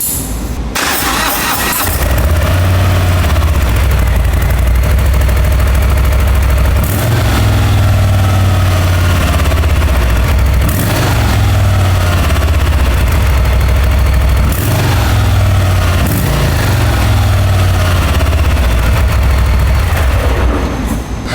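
A 1800 cc Harley-Davidson motorcycle on its stock exhaust idles loudly nearby, a deep, continuous rumble that pulses in slow, uneven surges, heard alone without voices.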